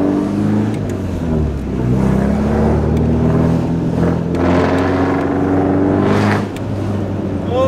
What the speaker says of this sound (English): this is the exhaust setup.